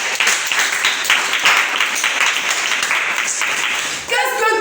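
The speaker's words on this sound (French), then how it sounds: "Est-ce que tu peux acclamer?" A church congregation claps and cheers together in a sustained, loud burst of applause. The crowd noise continues steadily before trailing off near the end as a tonal sound enters.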